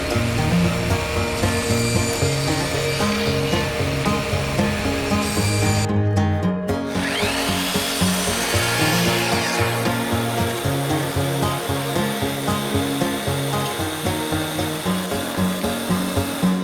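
Power saw in a home workshop cutting wooden frames for a DIY sliding table saw cabinet, running as a continuous loud whine with rhythmic buzzing and a brief dip in pitch midway, close and without talk.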